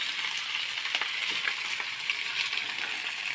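Cooked rice fries in a pan with a steady, close, crackling sizzle. Faint stirring scrapes run through it, and no one speaks.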